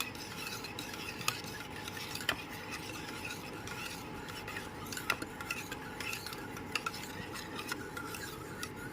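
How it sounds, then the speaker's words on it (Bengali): Warm milk being stirred into sour yogurt for homemade sweet curd, a steady soft scraping and swishing of a spoon in a bowl with occasional light clicks, close and alone. "এবার টক দইয়ের সাথে খুব ভালো মতো মিশিয়ে নিতে হবে"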